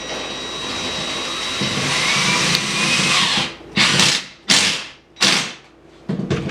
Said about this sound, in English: You're just going to drill from the front.